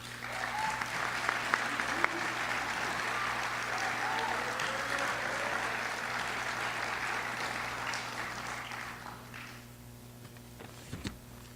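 Sustained applause from a graduation ceremony audience fills the hall for about ten seconds, a dense steady patter that thins out toward the end, with a few sharper claps and some faint crowd murmur underneath.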